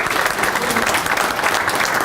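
Warm audience applause for the chefs at a public works awards ceremony, a dense, steady patter of many hands clapping together, close and loud.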